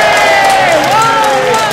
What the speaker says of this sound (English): Can we have a bit of a round of applause?